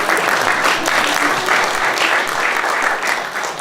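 Sustained, loud applause from an improv comedy show audience, a dense wash of clapping that holds steady throughout and eases slightly at the end.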